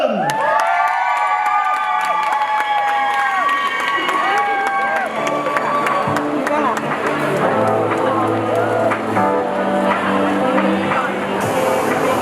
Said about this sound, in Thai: ถ้าพร้อมแล้วครับขอเสียงกรี๊ดดังๆนะครับ ต้อนรับคุณจ๊อบทัชพล